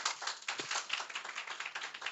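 Applause from a classroom audience of students clapping for their reasoning teacher, dense, steady hand claps filling a couple of seconds at moderate distance, with no talking over them.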